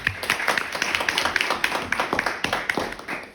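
Audience applause at a panel discussion on Black voices in media: steady, dense clapping from a room of people, moderately loud and continuous throughout.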